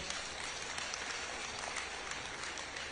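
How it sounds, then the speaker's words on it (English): Graduates and guests at a skills acquisition program graduation ceremony clap together in a steady, distant-sounding wash of applause, quiet and even throughout. "Please, let's give them a round of applause."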